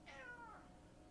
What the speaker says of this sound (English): mentioning that my cat was meowing